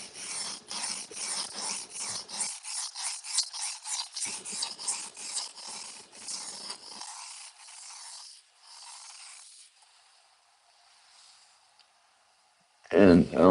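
A knife blade being sharpened to a new edge bevel at about 17 degrees, steady rhythmic rasping strokes repeating close up, later thinning to softer scrapes before a brief louder burst at the end.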